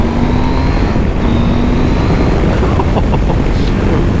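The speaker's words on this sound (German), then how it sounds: "der Motor klingt kernig" A Husqvarna Norden 901 adventure motorcycle engine runs loudly and steadily nearby, with a droning, throaty tone that shifts slightly in pitch.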